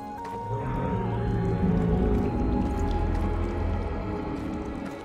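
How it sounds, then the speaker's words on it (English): A low, drawn-out growl from a dragon in the video game Operencia: The Stolen Sun, rumbling steadily for several seconds over a wet, watery game ambience. "Sounds like the dragon is not happy with us."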